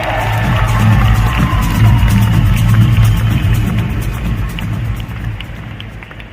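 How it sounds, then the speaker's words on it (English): A large crowd applauds and cheers, a dense roar of clapping and voices that slowly fades toward the end. "you can give yourselves a round of applause"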